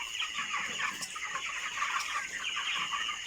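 Broiler chickens, about 28 days old, clucking steadily in a farm house; a dense, continuous chorus of overlapping calls at close range with no talking.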